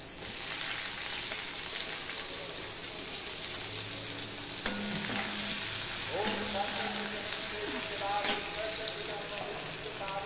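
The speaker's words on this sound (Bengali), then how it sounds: "পেঁয়াজ আর রসুনটাকে আমি লাল লাল করে ভেজে নেব।" Chopped onion and garlic fry in hot oil after a black cumin tempering, giving a steady, close sizzle with a few sharp stirring clicks and scrapes partway through.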